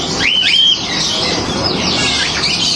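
Caged birds squawk and call at Yuen Po Street Bird Garden, a bird market, with a sharp rising squawk up close followed by softer chirps over steady outdoor ambience.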